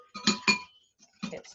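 Whisk striking the side of a metal bowl while making a mother sauce with clarified butter, two quick bright clinks close together, a pause, then another cluster of clinks, close and clear.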